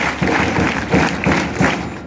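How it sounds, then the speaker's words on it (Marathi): An audience at a school prize-giving claps, a moderate, somewhat uneven wash of hands with a few louder pulses, brief and continuous. "टाळ्या वाजवा"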